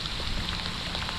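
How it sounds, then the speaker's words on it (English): Cold rain falling steadily beside the Minnesota River, a dense, even hiss of drops on the ground and surroundings, with no voices. "And here comes the rain."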